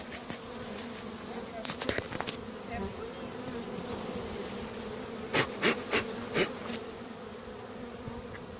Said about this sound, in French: on voit qu'il y a de moins en moins d'abeilles autour